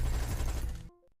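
Dense, loud gunfire in a battle, a rapid rumbling barrage of shots that cuts off abruptly, followed by a couple of brief sharp clicks.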